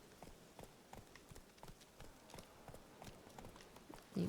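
Hooves of Roach, a horse in a video game, clip-clop in a steady, quiet gait, the evenly spaced footfalls sounding faint, with a brief louder thump at the very end.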